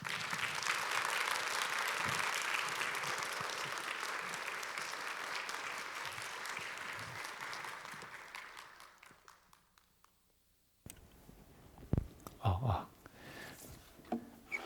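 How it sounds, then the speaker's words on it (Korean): Congregation applause welcoming a pastor at a church's 25th anniversary worship service, a broad steady wash of clapping that fades out around ten seconds, followed by quieter room sounds and a few sharp knocks. "목사님 나오실 때 여러분 우리 박수로 한번 큰 박수로 한번 환영하겠습니다."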